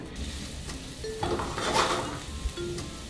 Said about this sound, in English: Put the onions in first, they take a tiny bit longer to cook.